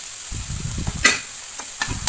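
Roasted onion, garlic and ginger paste cooks in a pan for mutton fry, a soft close sizzle with thick wet stirring squelches and a couple of sharp spoon clinks against the metal.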